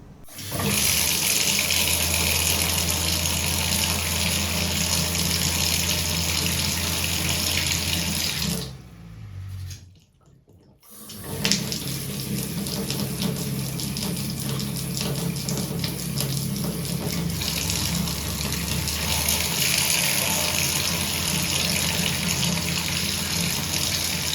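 Water gushes steadily from a tap at full flow, loud and close, briefly cut off partway through before streaming again.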